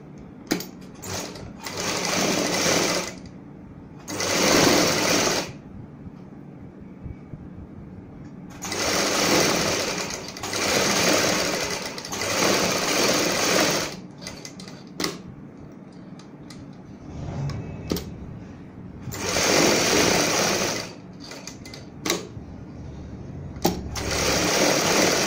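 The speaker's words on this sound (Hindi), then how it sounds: "अब हम बुकरम के साथ साथ सिलाई लगाएंगे।" An electric sewing machine stitching a blouse back neck together with buckram, running in several loud, steady buzzing bursts of a few seconds each, separated by pauses with faint handling sounds, close up and with no talking.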